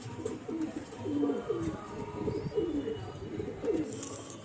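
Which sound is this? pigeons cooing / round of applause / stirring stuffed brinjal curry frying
pigeons cooing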